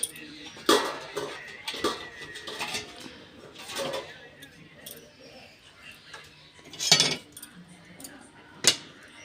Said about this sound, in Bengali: আমি একটা এই যে ভাত ঝাড়নি নিয়েছি, এই ঝাড়নিতে করেই আমি এইটাকে আমি করে নেব, স্মুথ করে নেব।